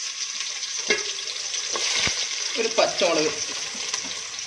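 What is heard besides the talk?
frying cashews, raisins, curry leaves and onion for beef biryani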